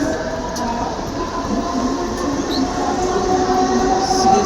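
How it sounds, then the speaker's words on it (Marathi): A Mumbai local train pulls into a crowded station: a loud, close rumble of wheels and carriages with a faint metallic squeal, holding steady and swelling slightly toward the end. "आमची CST ट्रेन आली."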